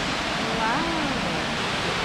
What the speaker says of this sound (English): Oh, dang, this is a crazy waterfall.